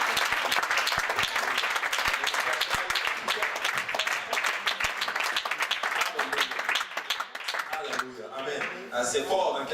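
Loud, dense applause from a church congregation during a worship service, with sustained crowd clapping filling the whole stretch and some voices rising toward the end.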